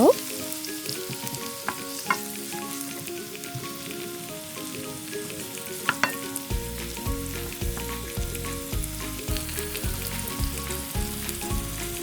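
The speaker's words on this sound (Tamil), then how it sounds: "பிரட்டி வச்ச இறாலையும் போடுங்க, கிளறி விடுங்க." Prawns fry in chilli garlic oil in a pan, a continuous sizzle with sharp clinks as they are stirred, then a louder rhythmic scraping of the spoon against the pan.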